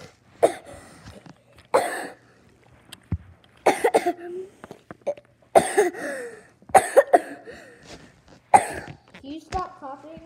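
A person coughs repeatedly in sharp, loud bursts spaced a second or two apart, mixed with throat clearing, in an animated adventure scene; voices speak briefly between the coughs.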